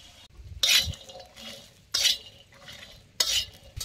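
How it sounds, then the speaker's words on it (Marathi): Shelled pavta beans roasting on a griddle over a wood-fired stove, with three loud bursts of scraping and stirring over a low crackle. "तव्यात आता हे सोलून घेतलेलं पावट भाजून घ्यायचं"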